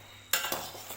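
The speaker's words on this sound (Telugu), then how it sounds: "ఈ మొత్తం ఒకసారి తిప్పుదాము" A spoon stirring a pan of potato, brinjal and tomato curry gives two quick, faint metallic scrapes and clinks close by, with no voices.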